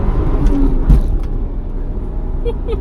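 A 1994 Toyota Supra Turbo accelerates hard at full throttle up a highway on-ramp, its engine a loud, steady rumbling drone throughout, heard from inside the car.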